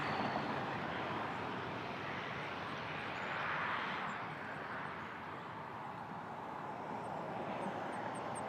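A jet aircraft departing at Toronto Pearson airport makes a steady, broad roar that holds for several seconds at a moderate distance, with a faint high whine layered above it and no voices.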